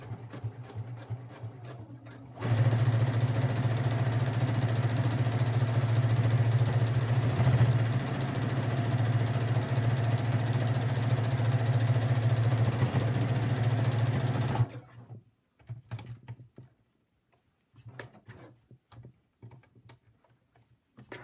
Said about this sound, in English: all you really need to do is sew the bottom closed, and I'm going to do that right now